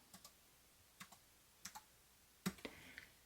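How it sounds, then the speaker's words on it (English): Keystrokes on a Keychron B11 Pro foldable keyboard, held up by hand rather than set on a surface: a few soft, quiet clicks in small pairs and clusters, spaced over a few seconds, with a sharper burst near the end. "I am going to hold this up here and type hello"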